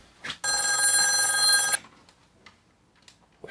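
A game room telephone gives one loud, near bell ring of just over a second, then stops, leaving faint scattered noises behind it.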